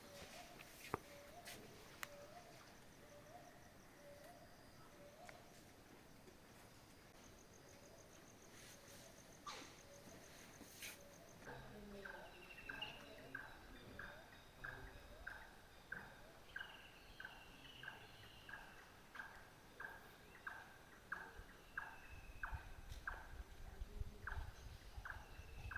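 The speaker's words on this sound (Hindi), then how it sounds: "और सुबह सुबह पक्षियों की आवाज़ आ रही है हर तरफ से।" Morning forest birdsong in Jim Corbett's Halduparao area, with a steady series of repeated sharp chirping calls in the second half, other scattered bird calls, and faint ambient forest noise throughout.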